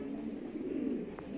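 Wild pigeons coo softly while being fed grain, a low murmuring call heard faintly and alone in a quiet outdoor setting.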